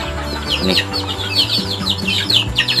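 Chickens cluck busily inside a coop, with many overlapping clucks and calls close to the microphone over a steady low hum.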